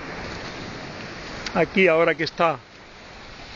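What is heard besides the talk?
sea waves at Playa del Saler beach, Valencia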